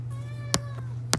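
Miles, a pet cat, gives a single close, clear meow, with a couple of sharp clicks around it.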